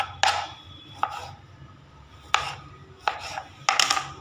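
A knife cuts figs on a board, five or six distinct, close chopping thuds spaced irregularly over a few seconds, with little else in between.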